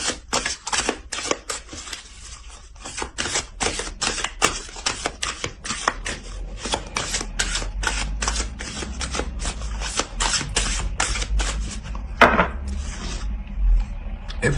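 Oracle cards from a Earth warriors deck shuffled by hand, a long run of quick papery riffs and slaps close up, steady and crisp, with no talking.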